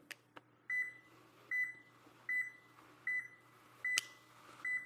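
Short electronic beeps repeat at a steady pace, about one every eight tenths of a second, with a few sharp clicks in between, from a Toyota Tacoma key fob signal check with an Autel MK808S scan tool.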